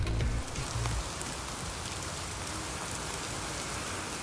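Steady rain falls on a stretch of the Hessen countryside, a dense, close hiss that goes on without a break after a short low rumble at the start.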